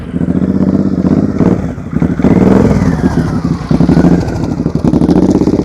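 A motorcycle ridden at slow speed during an advanced slow-speed riding practice session, its engine chugging steadily and loud and close, with throttle blips and some mechanical clatter throughout, no talk.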